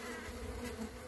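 Mandaçaia stingless bees buzz steadily at their hive in the Caatinga, a dense continuous drone close by with no talking.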